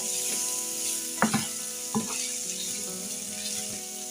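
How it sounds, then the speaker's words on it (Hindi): Black pepper and white chilli powder frying in a pan make a bright, constant sizzle up close, with two or three brief knocks of a spoon stirring midway; no voices. "इसको हम ज़रा सा और भून लेते हैं।"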